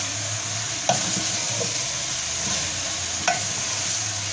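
Cauliflower being stirred with spices in a hot pan for aloo gobi, a steady close sizzle and frying hiss with a couple of sharp spoon scrapes against the pan.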